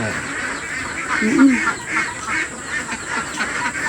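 Ducks on a farm let out a few quacking calls amid a noisy, busy outdoor background, moderately close and not very distinct.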